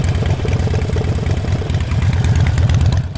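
A Harley-Davidson Iron 1200 motorcycle engine runs close and loud with a steady, pulsing, loping idle throughout and no voices.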